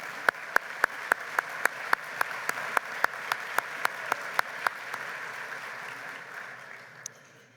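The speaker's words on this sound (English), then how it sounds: "Let's give Larry and them a round of applause" A luncheon crowd applauds at a Friends of Scouting patron event, a steady wash of clapping with a run of sharp, evenly spaced click-like transients on top that fades out over the last seconds.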